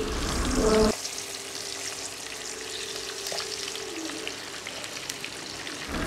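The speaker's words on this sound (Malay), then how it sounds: "Dan Nina start lah goreng dulu ikan goreng ni sampai dia menggaring" Steady crackling sizzle of fish frying in hot oil until crisp, continuous and close, with a brief louder burst at the start and no talking.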